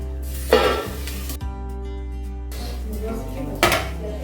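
Plates of steamed idli made from ration rice batter being lifted out of a steamer: metallic clanks and scrapes of steel on steel at the start and near the end, with a steady hiss and hum beneath.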